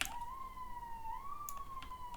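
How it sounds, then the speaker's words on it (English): A police siren wails steadily outside, its tone slowly rising and falling, moderately distant and continuous, with a few faint clicks over it and no talk. "Sorry about the sirens and stuff."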